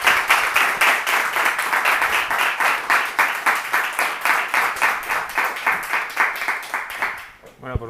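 An audience applauds a lecturer at an academic talk with loud, near, rhythmic clapping in a steady synchronized beat that persists throughout before stopping abruptly at the very end.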